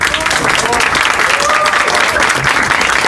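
Loud, dense applause from a conference audience, steady clapping filling the space throughout.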